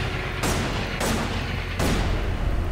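Weapon fire in the space shooter game Everspace 2, three heavy booming shots roughly half a second to a second apart over a loud, dense rumbling background.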